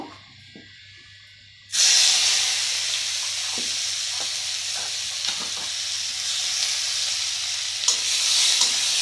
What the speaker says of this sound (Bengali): পেঁয়াজটা ভেজে নিব নাড়ে চাড়ে